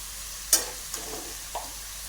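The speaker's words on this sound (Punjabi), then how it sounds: "ਇੱਧਰ ਮਸਾਲਾ ਜਿਹੜਾ ਆਪਣਾ ਹੁਣ ਆਪਾਂ ਪਾ ਦਿੰਨੇ ਇਹਦੇ ਚ ਮਿਰਚ ਇਹ ਚੰਗੀ ਤਰ੍ਹਾਂ ਭੁੱਜ ਗਿਆ" Spices and chilli frying in a pan, with a few brief scraping stir strokes and soft sizzle bursts close by, spaced irregularly over a quiet background.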